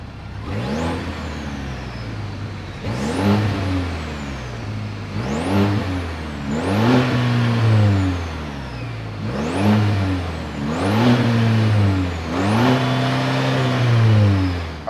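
The 2.7 liter turbocharged four-cylinder engine of a 2026 GMC Canyon AT4 revs about six times in a steady rhythm, each rise and fall loud and close, with no talking.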